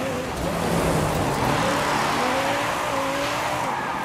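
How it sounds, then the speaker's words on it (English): Lamborghini Huracan engine in Forza Horizon 5, a steady, loud revving drone with rising and falling pitch and some tire squeal, heard without talk. "speaking of the Lamborghini Huracan, I think it sounds pretty decent"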